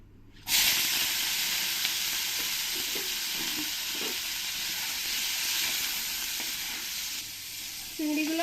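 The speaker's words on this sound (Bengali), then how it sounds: "এবার এর মধ্যে আমি হালকা একটু হলুদ দিয়ে দেবো আর একটু লবণ দিয়ে দেবো দিয়ে আমি এই চিংড়ি মাছগুলোকে ফ্রাই করে নেবো" Prawns fry in hot oil with turmeric and salt in a Bengali-style prawn malai curry, giving a loud, steady sizzle that starts abruptly and runs throughout, with faint stirring clatter and no talking.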